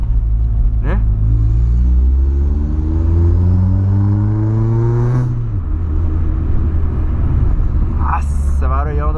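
A Volkswagen Polo engine revs hard, climbing to a loud roaring peak, dropping back to a rumbling idle, then blipping up again briefly near the end, close and dominant.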